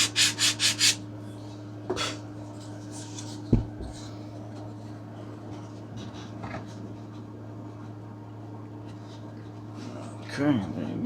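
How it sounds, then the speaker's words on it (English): The fuselage of a Top Flite P40E Warhawk model airplane is sanded, with a quick run of rubbing strokes at the start and then sparse, faint scrapes over a low steady hum. "I'm gonna go ahead and sand this one a little bit"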